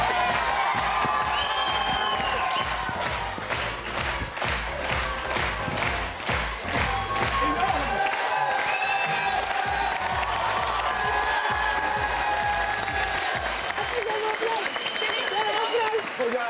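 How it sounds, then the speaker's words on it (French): A crowd applauds and cheers continuously at close range, with a voice talking over the clapping. "Télésport, tout le monde t'applaudit. Applaudissez-le."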